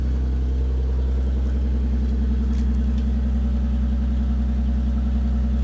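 A BMW drift car idles right after an oil change, its engine giving a steady, loud, close low rumble that runs evenly throughout with no talking.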